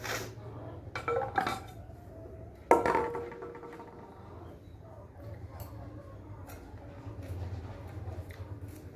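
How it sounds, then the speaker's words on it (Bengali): Ivy gourd being cut into round slices with a knife in a home kitchen, a few sharp clicks and clinks of the blade against the board and utensils, with quieter background sounds between them. "এরকম গোল গোল করে কুঁদরিগুলো কেটে নিই"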